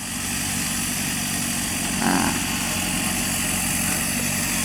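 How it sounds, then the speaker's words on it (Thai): A tractor pulling a rotary cassava stalk cutter in second gear drones steadily and loudly throughout, a continuous engine roar with a brief swell around the middle, with no voices. "นี่นะฮะใช้โรตารี่นะครับ เกียร์สองนะครับ"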